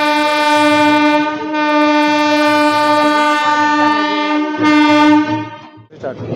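A train pulls out of Kesinga railway station with a loud, sustained horn blast of steady stacked tones lasting several seconds, briefly swelling near the end before cutting off, over rolling rail rumble.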